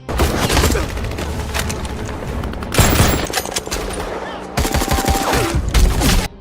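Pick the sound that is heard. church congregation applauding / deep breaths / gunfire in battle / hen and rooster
gunfire in battle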